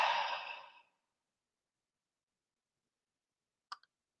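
A deep, breathy exhale during a guided meditation fades out over about a second, followed by long silence and a faint click near the end.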